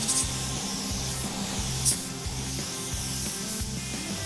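Spray gun laying guide coat over a car body being prepped for polyester primer, a steady hissing spray with short rhythmic on-off pulses, close and alone.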